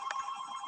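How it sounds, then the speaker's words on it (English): A mobile phone rings with a thin, steady electronic tone, faint and brief with a small burst at the start, and no voices over it. "I think you should answer my phone's ringing."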